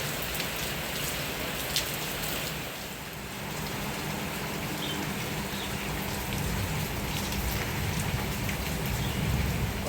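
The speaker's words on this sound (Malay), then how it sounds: "lah ni hujan pula. Hujan." Steady rain pours down on a goose and duck farm, a dense continuous patter with occasional louder drops hitting nearby surfaces.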